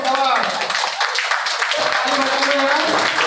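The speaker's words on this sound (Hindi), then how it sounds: "और जोर ताली बजाओ, और बजाओ, बहुत बढ़िया" A group claps steadily and continuously at a business training session, dense and close, with a voice talking loudly over the clapping.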